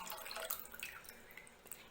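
Leftover water from rinsing a wet grinder poured out in a kitchen, a quiet, close trickle and dripping splash.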